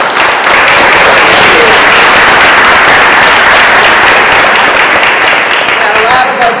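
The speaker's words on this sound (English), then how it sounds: "Let's give them all a round of applause." Loud, dense applause from the audience at a mayoral debate in Greenville, North Carolina, a continuous roar of many hands clapping close by that stays strong throughout.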